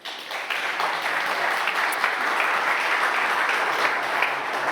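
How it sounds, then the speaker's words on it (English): Audience applause at a handball Champions League group draw ceremony as guests are called onto the stage, a steady dense wash of clapping that holds loud and even throughout, with no talk over it. "Come to the stage, and a round of applause."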